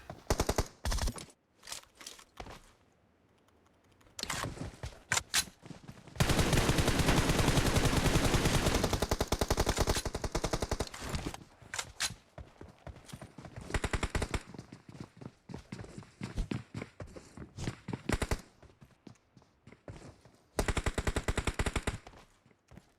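Sustained automatic gunfire from a 4-versus-4 multiplayer shooter match, rapid bursts trading back and forth, with one long dense fusillade in the middle and shorter volleys before and after, all without voices.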